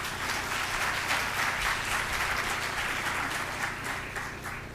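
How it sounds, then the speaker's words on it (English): Crowd at a Montgomery College celebration event applauds warmly, a full steady wash of clapping holding for several seconds without speech. "Let's give ourselves a round of applause."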